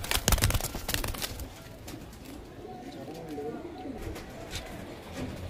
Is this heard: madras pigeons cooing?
yes